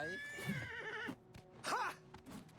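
A horse whinnies with a rising, wavering cry in a game quest setting, heard over background sounds and followed by further brief calls, with a voice speaking around it.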